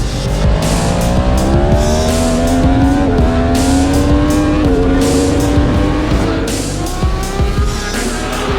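A racing motorbike ridden hard on a track session, its airbox opened up with the internals removed for more airflow: a loud, continuous engine roar with rising revs that dip and climb again at gear changes, close and steady throughout.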